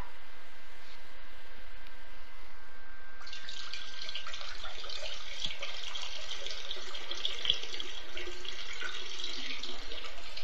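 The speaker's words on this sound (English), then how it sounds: "You wanna hear me piss?" A steady stream of liquid splashes into water, a continuous hissing trickle that begins suddenly about three seconds in and runs unbroken to the end, fairly close, with no talking over it.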